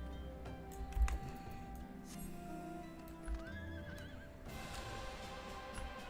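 Horse neighs and clip-clopping hooves in the video game Final Fantasy XIV, a whinny rising over steady hoofbeats against a soft game music bed, fairly close and moderately loud.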